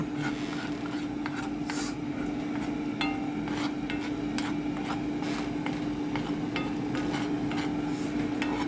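A utensil scrapes and taps while stirring thickening homemade gravy in a cast iron skillet, with repeated light scraping strokes over a constant low hum from nearby.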